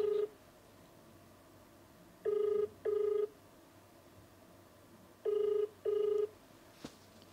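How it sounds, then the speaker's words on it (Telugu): Ringback tone of an outgoing telephone call, two pairs of short double rings separated by silence, clear and steady with no voices. "రింగ్ అవుతుంది"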